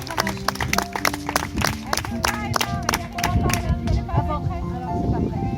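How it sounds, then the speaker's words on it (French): An audience claps loudly and steadily with sharp, dense hand claps, and some voices mix in beneath the applause. "On peut l'applaudir très fort."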